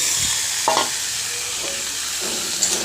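Boiled figs and potatoes tumble into a pan of fried spice paste for a fig dalna, with a steady sizzle broken by a couple of soft stirring scrapes and plops.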